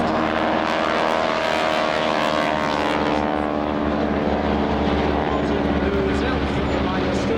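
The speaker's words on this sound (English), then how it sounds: "the Stearman aircraft was manufactured by Boeing, 450 horsepower" A 450-horsepower Boeing Stearman biplane flies at the Clacton Air Show, its propeller engine droning loud and steady throughout, while a commentator talks over the public address.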